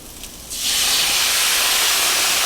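Coconut milk poured into a hot pan of charred Brussels sprouts erupts into a loud, sustained steamy sizzle that starts abruptly and holds steady, close up.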